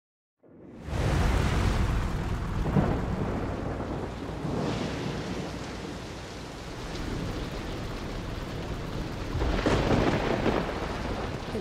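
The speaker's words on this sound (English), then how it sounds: "starting to rain." Heavy rain hisses steadily in the video game Dragon Quest Treasures, with deep rolls of thunder rumbling in and swelling, one louder rumble near the end.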